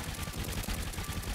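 Rapid, continuous cannon fire from a World War II North American B-25 Mitchell bomber in an air-combat video game, a dense rattling barrage of shots running steadily throughout without pause.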